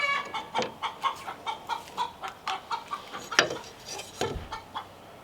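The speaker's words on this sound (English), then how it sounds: "Chickens are laying eggs right now." Chickens clucking in a rhythmic run of short, regular clucks at moderate distance, joined near the end by a louder squawk and some rustling outdoors.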